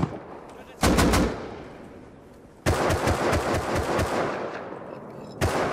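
Gunfire in the Rust survival video game comes in sharp bursts of rapid shots, one short volley followed by a longer rattling string and a final shot, loud against a quieter background.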